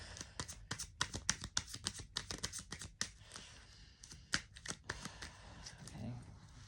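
Rapid papery riffling of a card deck being shuffled, close and crisp, in quick bursts with brief pauses and a soft low murmur underneath.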